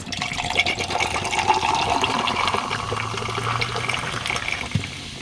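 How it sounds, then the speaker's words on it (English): A drink is poured steadily into a cup of ice for several seconds with a fizzy, gushing splash, close and fairly loud, with no talking. "Pour that into a cup of ice."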